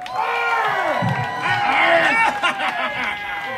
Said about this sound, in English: Make some noise everybody